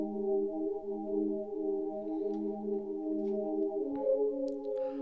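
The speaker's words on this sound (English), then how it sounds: "I downloaded his Casio CZ1 pack, and I have it set to the 4th preset" An atmospheric pad from the fourth preset of a Casio CZ1 synth pack holds steady, soft layered tones that shift slightly in pitch near the end, quiet and alone.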